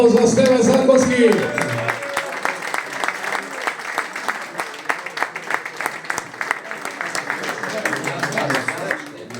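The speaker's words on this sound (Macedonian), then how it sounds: "Еден аплауз за Стеве Заковски." Audience applause at a reunion gathering for footballers of the FK Teteks generation, beginning under a voice, then sustained rhythmic clapping from a crowd, fairly near and steady for several seconds.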